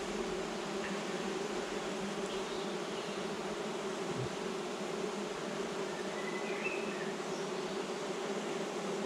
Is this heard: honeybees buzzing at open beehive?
yes